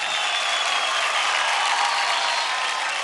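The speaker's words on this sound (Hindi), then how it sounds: "जबरदस्त जोरदार ताली हो जाए" Loud, sustained studio audience applause on a televised Indian dance competition, a dense, even roar of clapping that holds steady throughout with no talking over it.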